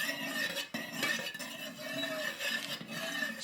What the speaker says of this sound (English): I'm just going to stir that for a minute now.